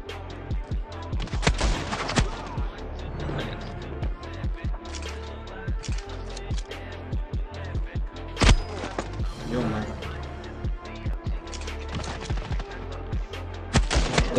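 Rapid gunfire from a shooter video game duel, with dense bursts of sharp shots and thuds in quick succession and a few louder reports standing out, while a voice is heard at times in the mix.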